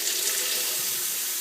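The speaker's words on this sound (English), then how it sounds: "I turned the water back on just to see what would happen without the diverter" An American Standard Hamilton kitchen faucet runs at full pressure after its diverter is removed, giving a steady, loud hiss of flowing water into the sink with no voices.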